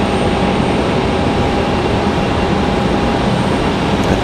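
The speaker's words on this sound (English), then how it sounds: "Looks like JetBlue's getting ready to line up and get ready to get out of here this morning." A JetBlue Airbus A320 lines up on the runway, its engines giving a constant dense roar with a steady tonal hum, loud and unchanging throughout, without any voices.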